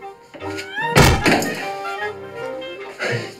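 A faulty door thuds shut with one heavy, close impact, set among muffled movement and a few brief voices talking nearby.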